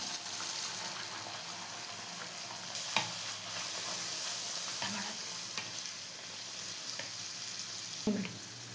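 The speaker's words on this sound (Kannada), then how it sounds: "ಎಣ್ಣೆ ಚೆನ್ನಾಗಿ ಕಾದಿದೆ, ಪೂರಿ ಹಾಕ್ಕೊಳ್ಳೋಣ" Puri fries in hot oil, a steady close bubbling sizzle that runs throughout, broken by a few soft clinks and splashes as the dough is moved in the pan.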